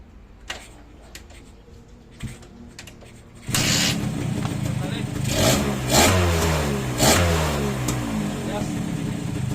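Faint ticks and a voice come first, then a restored vehicle's engine cranks and starts, running loud and close and revving up and down repeatedly.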